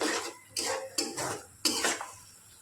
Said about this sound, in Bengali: মিশিয়ে এটাকে ভালো করে নেড়ে চেড়ে নেব।